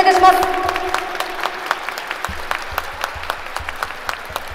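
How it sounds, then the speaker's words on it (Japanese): An audience at a fitness competition applauds in a brisk burst of clapping that settles into a thinner, scattered patter, with an announcer's voice over the start. "盛大な拍手をどうぞよろしくお願いいたします。"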